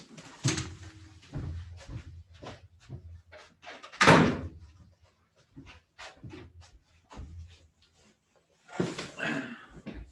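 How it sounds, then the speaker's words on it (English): A door is pushed shut indoors, giving a sharp close, solid thud near the middle, with scattered shuffling and handling knocks around it and no talking. "Let me just shut this door."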